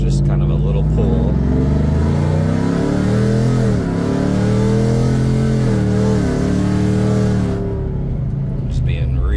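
A loud supercharged 2020 Ford F-150 pickup engine revs up and pulls hard, its pitch climbing steadily as it accelerates close by.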